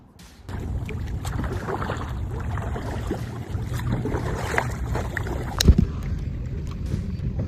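A kayak paddles through calm water in Abu Dhabi's mangrove forest, with soft, steady paddle swishes and water movement close by and light wind in the background.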